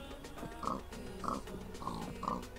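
A pig in the video game Minecraft gives four evenly spaced, nasal oinking grunts at moderate volume against a steady low background.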